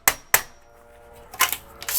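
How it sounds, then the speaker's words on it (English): A hammer strikes a chisel to pop the flanges off a single-hung window during a retrofit install, two sharp metallic knocks early, then a pause and a quicker cluster of close, loud taps. "A little hammer and chisel action here,"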